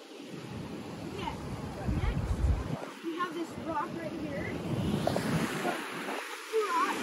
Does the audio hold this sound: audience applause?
no